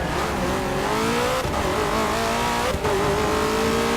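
Race car engine and tires in Forza Motorsport 6 as the tires are warmed up: a loud, steady, rising engine whine fills the clip, with two brief dips from gear changes and no speech.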